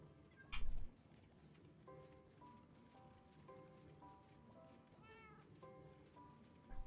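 Cats meowing in the Minecraft video game, a few short synthetic mews spaced through the clip over a soft, rain-like background hiss, with a louder thump near the start.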